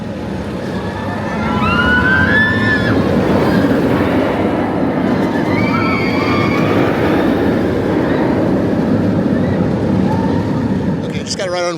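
A ride on the Vortex standing roller coaster at Carowinds brings a loud, continuous rumble of wheels on track with rushing wind, while riders scream and shout over it and a rattling clatter comes near the end.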